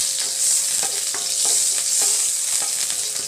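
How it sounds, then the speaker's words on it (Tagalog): Garlic frying in cooking oil in a pan, a bright steady sizzle punctuated by regular scraping stirs, close and moderately loud with no voices. "Lagay na natin yung bawang."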